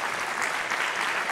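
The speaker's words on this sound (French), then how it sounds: "Je pense qu'on peut encore vous applaudir pour votre présentation." Conference audience giving a short, dense burst of applause after a talk on virtual and augmented reality in architecture and construction, even and continuous throughout.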